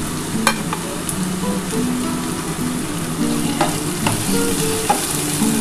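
Onion and potatoes fry together in a pan, giving a steady close sizzle throughout with repeated scraping and clinking of a stirring utensil, no voices.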